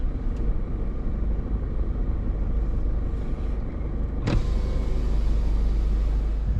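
A parked car idles on the Hyden to Norseman road, its engine a steady low rumble close by, with a brief sharp knock midway and faint wind noise.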